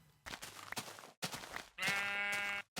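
Sheep in the Minecraft video game give a single drawn-out, nasal bleat near the end, clear and fairly close, after a stretch of busy background sound with no talking.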